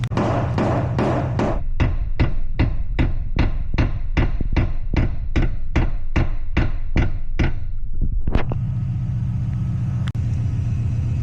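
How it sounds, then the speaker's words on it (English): About nineteen heavy, evenly spaced hammer blows ring out close up as the frame rail near the turbo manifold of a Toyota Chaser is beaten in for clearance, then stop, leaving a low rumbling background. "So we're just going to smack that area in."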